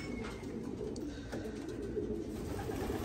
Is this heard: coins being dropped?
no